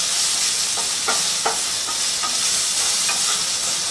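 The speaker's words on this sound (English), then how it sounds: "So I'm trying to get my zucchini nice and brown, just like the instructions." Zucchini browning in a frying pan, making a steady close hiss and sizzle throughout, with a few soft scrapes of stirring and no talking.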